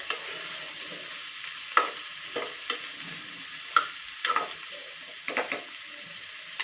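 Tomatoes with salt sauté in a pan, soft sizzling under irregular spatula scrapes and stirring knocks, fairly close and quiet with no talking.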